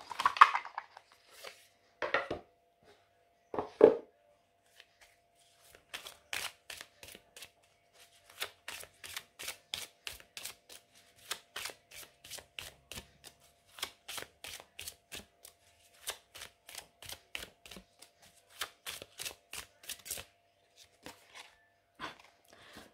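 Oracle cards being shuffled, sharp riffling flicks and taps coming in quick close bursts over a quiet background, without any talking.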